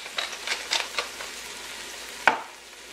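Quick stirring of beef short ribs seasoned with fresh ground black pepper in a pot, a few soft scraping swishes spaced through the moment, ending in one sharper clack of the spoon against the pot, close and fairly loud with no talking.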